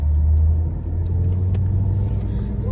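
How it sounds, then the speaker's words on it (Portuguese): Traffic on a busy road in the town centre of União dos Palmares, Alagoas, makes a steady, loud engine rumble with a constant low drone and no voices. "a pista tá movimentada, é movimentação de carro"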